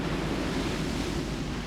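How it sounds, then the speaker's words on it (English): The sea roars steadily in a visual novel game, a dense, constant wash of surf with a windy edge, unbroken and moderately loud with no speech. "the roar of the sea"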